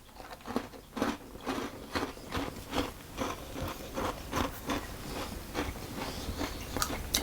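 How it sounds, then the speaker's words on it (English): A crunchy coconut oatmeal chocolate sandwich cookie is bitten and chewed close to the microphone, giving a steady series of crisp crunches at roughly half-second intervals with no talking. "Now I will just taste this one that I've been eating so you can see that it's nice and crunchy"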